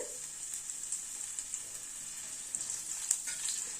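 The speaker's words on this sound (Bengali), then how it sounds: "ফোড়নটাকে একটু ক্র্যাক করিয়ে নেব, গ্যাসের ফ্লেমটাকে কম রেখে।" Asafoetida, black cumin and slit green chillies tempering in hot oil over a low gas flame give off a quiet, steady sizzle. Small crackles and pops rise near the end, with no talking.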